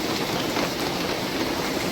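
Heavy rain pours steadily outside a home, a dense, even hiss of falling water that stays constant and loud throughout with no pauses or voices.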